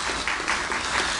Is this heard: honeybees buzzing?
no